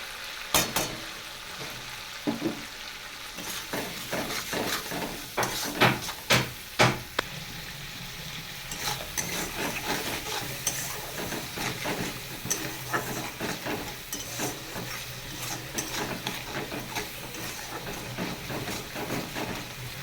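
Turmeric fries in oil in a pan, a steady moderate sizzle broken by repeated sharp clicks and scrapes of stirring, heavier in the first half.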